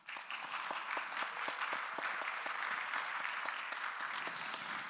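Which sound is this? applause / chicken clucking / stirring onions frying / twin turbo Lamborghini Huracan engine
applause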